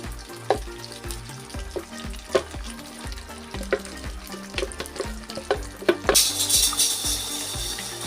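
Pickle mixture stirred and fried in a pan, with a steady sizzle and repeated scraping strokes of the spoon close by, and a brief burst of water near the end.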